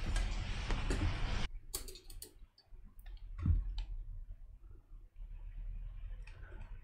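Small screws being backed out of a MacBook Pro laptop's underside on a workbench, heard as close, light metallic clicks and ticks, with a louder broadband burst of handling noise at the start.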